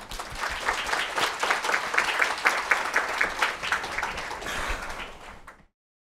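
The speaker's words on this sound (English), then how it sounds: "Let's give a round of applause for our panelists." An audience applauds the panelists at an Indigenous ecologies discussion event, a steady crowd of clapping hands lasting several seconds before cutting off abruptly.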